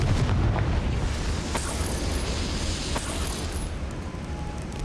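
Confringo fire spell explosion in the game Hogwarts Legacy: a loud, dense blast with rumbling low end and sharp crackling bursts that fades into sustained roaring debris noise.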